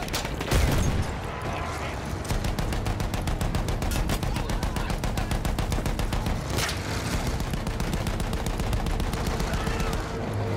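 Rapid machine gun fire in Battlefield 1 during a World War I campaign battle against a field gun, dense continuous bursts of close shots with a few heavier booms, loud throughout.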